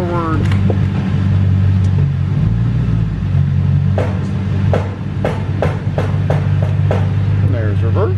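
A 2002 Lexus GS430 idles with a steady low rumble while the transmission is shifted into forward gear, with a string of sharp clicks and knocks over the engine drone and brief voice sounds near the start and end.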